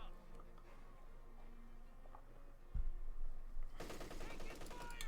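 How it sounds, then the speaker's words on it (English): An MG34 machine gun in the Company of Heroes 2 video game opens fire with a dense, rapid rattle that starts partway in, after a muffled thump and ambient battle noise. A voice talks over it. "Got the MG34 opening up on the Riflemen."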